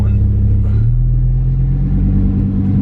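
A Lamborghini Huracán with a $4,000 aftermarket exhaust, rumbling loud and close with a deep, steady low drone that shifts in pitch partway through, in Corsa track mode, with a voice talking over it.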